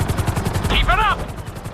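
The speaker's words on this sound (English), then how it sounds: "we'll see how well you handle the chopper" A helicopter's rotor thumps steadily and loudly throughout in Grand Theft Auto V, with a short voice breaking in over the engine partway through.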